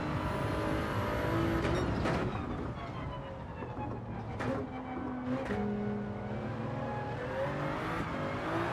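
A Toyota Supra race car in Gran Turismo 7, struggling for grip on the Nürburgring GP track, revs and shifts repeatedly with sharp engine surges and brief tire squeal, loud and continuous.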